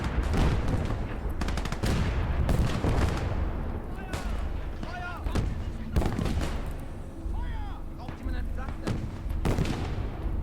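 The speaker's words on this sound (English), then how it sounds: "The problem is there's artillery on that field." Artillery and gunfire thunder across a WWII battlefield in the video game Call to Arms – Gates of Hell: Ostfront, Germany versus USSR, with repeated loud close blasts and crackling volleys layered through the whole stretch.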